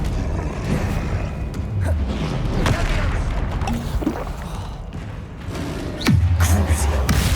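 Bombarda blasting spell in Hogwarts Legacy, several booming magical impacts and thuds mixed with other spell effects, fairly loud game combat with a voice breaking in briefly.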